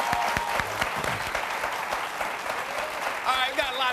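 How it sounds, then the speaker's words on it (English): A TV studio audience applauds a panel, a full, steady burst of clapping with voices speaking over it toward the end. "Please give my panel a round of applause"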